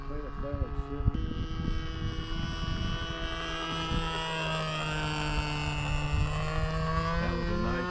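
A nitro-powered RC model plane makes a scale fly-by pass, its engine a sustained buzzing whine that shifts in pitch as it passes, with people talking nearby at the start.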